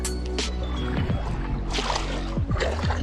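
Choppy waves slap and splash against a small fishing boat on a lake during carp fishing, a steady close rumble of wind and water with intermittent sharper knocks and splashes.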